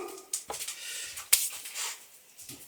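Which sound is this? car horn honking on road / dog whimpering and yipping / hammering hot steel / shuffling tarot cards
dog whimpering and yipping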